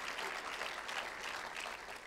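Church conference audience giving a big round of applause, dense steady clapping from a crowd filling the whole short stretch without talk.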